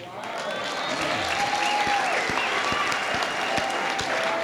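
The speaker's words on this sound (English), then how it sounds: "I want to see that roaring applause when this person comes up" A graduation ceremony audience breaks into sustained applause for a 69-year-old PhD graduate, a broad roaring clatter of many hands swelling in and holding strong for several seconds, with occasional whistles and cheers over it.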